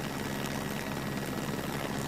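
Helicopter flying over the east end of London near the Essex-Kent border during Concorde's final flight in October 2003, a continuous broadband rotor and engine roar, steady and moderately loud with no talk.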